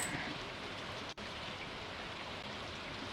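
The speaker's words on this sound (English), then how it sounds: "Yep, should be raining." Steady rainfall in the farming video game Stardew Valley, a constant soft hiss of falling rain with no talk, broken only by a tiny momentary dip.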